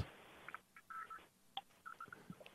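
Cell phone keypad tones sound as a number is saved, a series of short separate beeps in an uneven rhythm, fairly quiet and close, with no talking.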